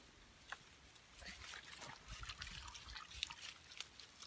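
Quiet trickling and dribbling of water draining through a double-layered cloth bag, with soft irregular drips and splashes, fairly close and faint.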